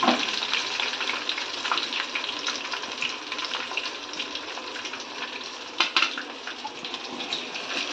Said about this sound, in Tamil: அதே மாதிரி எல்லாத்தையுமே நம்ம பொரிச்சு எடுத்துருவோம்